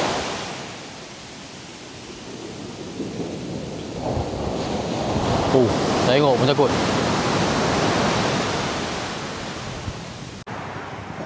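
Heavy surf pounds the shore at Teluk Senangin, a loud continuous rumbling roar that builds midway, with a brief spoken remark over it before an abrupt cut.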